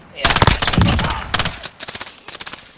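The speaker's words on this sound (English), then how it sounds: "2-3 shots with a DMR." A quick series of sharp, close DMR rifle shots in Call of Duty Warzone, fired in rapid rhythmic cracks with a denser cluster at the start and lighter pops trailing off.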